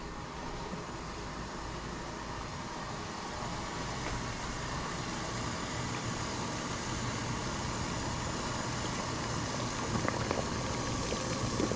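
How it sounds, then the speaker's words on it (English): Water boiling hard in a pot used for cleaning a skull, a steady dense bubbling roar that holds constant throughout, with no voices. "The water is boiling."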